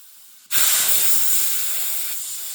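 A Hill EVO 3-10 airgun compressor vents air through its fill valve. After half a second of near quiet, a sudden loud, close hiss bursts out and holds steady, fading only slightly over two seconds.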